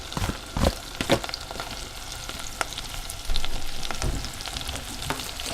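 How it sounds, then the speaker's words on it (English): Shallot and garlic softening in melted butter in a pan over low heat, a gentle continuous sizzle broken by a few sharp clinks and scrapes of a utensil, close by with no voices. "tablespoons of butter melted here. I've got that shallot and that garlic"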